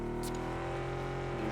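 Car engine in the game PUBG during a drift, a steady droning, harmonic-rich engine tone held at high revs, loud and continuous over the short stretch.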